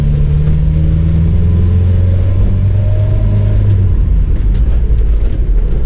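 Loud, close engine rumble of a 1979 MG B driving, a low drone that rises and then drops as it shifts, with steady road noise.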